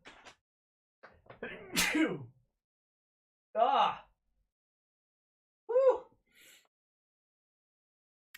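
Three sneezes spaced a few seconds apart, close and fairly loud, the first preceded by a sharp inhale and followed by a brief breathy sound.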